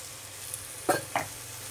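Stew being stirred in a frying pan, with a steady low sizzle underneath and two short scraping strokes of a spoon close by.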